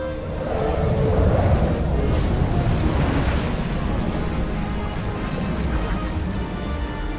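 In an animated scene, river water rushes and roars as Elijah parts it, a loud, broad surging wash that swells early, then settles into a steady churning rumble.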